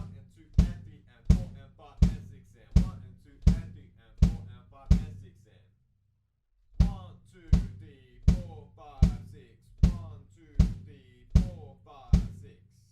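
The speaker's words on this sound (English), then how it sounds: "So at the beginning, we're actually playing kick drums 2 against 3 in 6/8." Kick drums play a two-against-three pattern in 6/8 for a tutorial, steady punchy booming hits alone, a short gap in the middle, then the pattern resumes.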